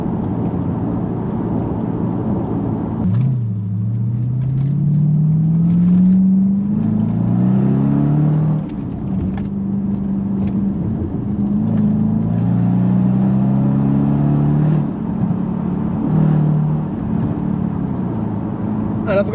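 Jaguar XF R (X250) with an automatic gearbox accelerating hard, its engine note rising and falling through several gear changes, loud and close from inside the cabin.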